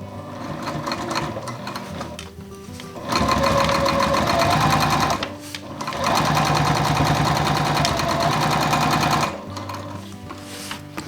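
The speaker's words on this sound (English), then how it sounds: "sew across the top as close as we can get." A sewing machine sews across the top of a handmade bag in two loud, sustained runs separated by a short pause, close up, with quieter handling sounds before and after.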